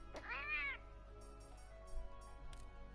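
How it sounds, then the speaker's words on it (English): A palico cat in Monster Hunter World gives one clear, rising-then-falling meow near the start, followed by faint game ambience and soft chimes. "I'll fight you for this cat. I mean, listen to it."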